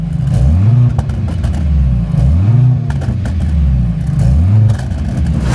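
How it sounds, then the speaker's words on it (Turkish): A Mercedes-AMG C63 S E Performance Estate with active exhaust sound on revs and drops repeatedly with a throaty exhaust note, loud and close, with occasional pops and crackles on the overrun. "Dışarı da biraz daha fazla veriyor egzoz o ses açık olunca."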